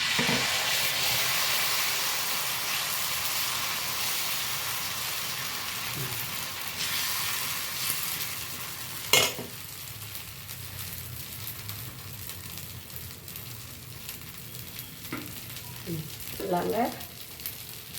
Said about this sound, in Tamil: கல் சூடேறிச்சு இப்போ நான் ஒரு தோசை ஊற்றுறேன்